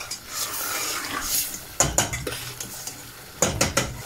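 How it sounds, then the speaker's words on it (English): Chicken keema curry being stirred in a pan, a low sizzle under repeated metallic scrapes and clinks of a utensil against the pan, close and without speech. "Mix it well, let it cook for a few seconds"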